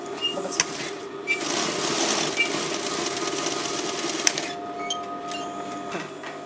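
Sewing machine running a continuous millimetre-wide seam on a trouser front fly zipper, a steady close mechanical whir with faint clicks and a short tail as it stops.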